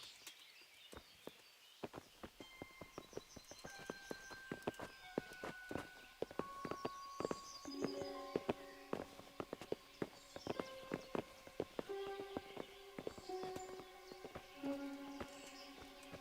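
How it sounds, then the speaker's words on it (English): Horses' hooves clop in the medieval video game Kingdom Come: Deliverance, a steady run of sharp, fairly close hoof strikes over tonal background music and ambient layers. "Bring the horses."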